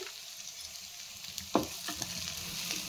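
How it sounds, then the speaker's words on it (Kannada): Curry leaves dropped into hot oil with ginger in a pan for chicken pepper dry, giving a steady frying sizzle with a brief sharp crackling burst as they hit, then continued sputtering. "ನೆಕ್ಸ್ಟ್ ಕರಿಬೇವು ಹಾಕ್ಕೊಳ್ತಾ ಇದ್ದೀನಿ"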